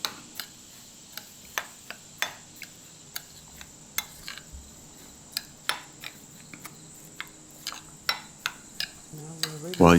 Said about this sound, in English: And mix that up.